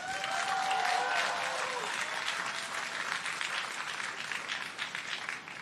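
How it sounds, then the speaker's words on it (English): A commencement crowd applauds the graduates at Guttman Community College, steady dense clapping filling the hall throughout, with a brief cheer or voice rising early on. "can we please give our graduates a big round of applause?"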